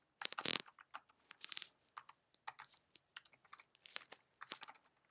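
Someone types on a computer keyboard in a quiet room, a close, irregular patter of soft key clicks in short bursts with brief pauses between them.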